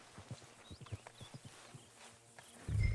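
Horse hooves clip-clop at a steady walking rhythm in the video game Red Dead Redemption 2, close and fairly soft, with a louder low rumble breaking in at the very end.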